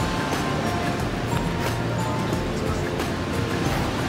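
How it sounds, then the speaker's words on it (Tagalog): Strong ocean waves breaking on a rainy shore form a dense, continuous roar of surf and rushing water, loud and unbroken throughout with no clear individual crashes. "ang lakas ng alon"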